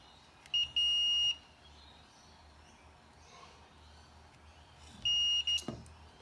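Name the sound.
multimeter continuity test beep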